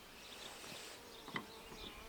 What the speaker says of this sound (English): My God, there's a lot of bees in there.